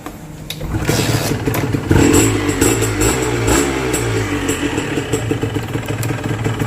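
A Honda Nova/N-Pro motorcycle in racing livery idles steadily and quietly at close range, a low even engine rumble running throughout with no talking.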